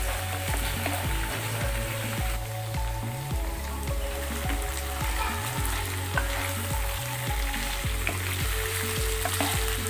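Chicken fries steadily in a pan in a home kitchen, a dense continuous sizzle with a low steady hum underneath, close and even for the whole stretch with no talking.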